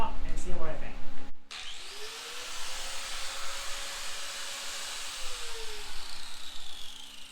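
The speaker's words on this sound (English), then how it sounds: "That's a sanding wheel." Sanding wheel grinding through an aluminum motorcycle fairing for a 1977 Suzuki GS550, a steady whining shriek that rises and holds for several seconds after a brief burst of talk at the start.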